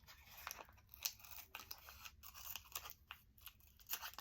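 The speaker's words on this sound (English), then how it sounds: "I'm going to cut this extra off real quick." Scissors snip off excess tape and paper from an index card in a journal, a quick run of several close, crisp cuts with small crunchy tearing sounds, no talking.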